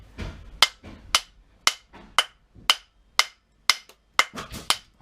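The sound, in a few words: vintage ball peen hammer striking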